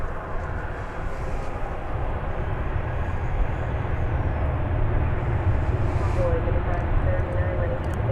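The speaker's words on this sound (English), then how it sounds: "This ought to be American Flight 1830. It's a 737-800 off to Guadalajara, Mexico." An American Airlines Boeing 737-800 jet rumbles steadily at Dallas Fort Worth airport, a continuous broadband engine roar that holds even and moderately loud throughout, with faint chatter in the background.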